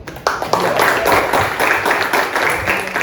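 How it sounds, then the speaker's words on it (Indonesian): Students clap in a classroom during a mathematics lesson. A burst of fairly close, lively clapping starts after a short pause and keeps going, with a faint voice underneath. "Oke, tepuk tangan untuk"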